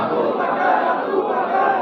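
A large crowd at a religious gathering shouts a slogan in unison, a loud, dense, continuous roar of many voices filling the whole short stretch.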